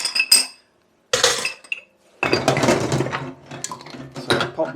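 Glass jars knock and clink together as they are gathered up for washing, giving several bright bursts of rattling glass separated by short pauses, loud and close with no speech.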